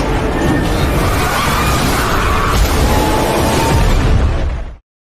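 A massive explosion erupts in an animated fantasy battle as a giant claw strikes a black dragon, giving a loud, sustained roaring blast for several seconds before cutting off abruptly.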